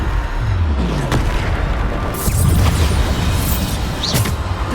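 A Bombarda blast spell goes off in Hogwarts Legacy with a loud, heavy boom over a dense, continuous bed of game combat noise.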